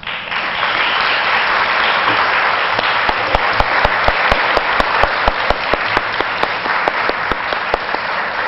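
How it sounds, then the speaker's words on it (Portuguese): Sustained audience applause fills a lecture hall at a Spiritist conference in New York, loud and dense throughout, with a few sharper individual claps standing out toward the end. "a qual pedimos uma salva de palmas."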